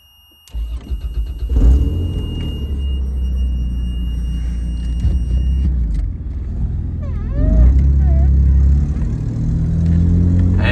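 A used Toyota Land Cruiser engine cranks and starts, then settles into a steady rumble that swells as it drives off, near and loud, with no talk.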